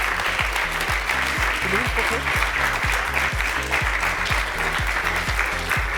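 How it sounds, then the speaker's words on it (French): Audience applause at a gala evening, sustained rhythmic clapping from a hall full of people, with a voice speaking over the clapping. "Et je vous propose de continuer à applaudir"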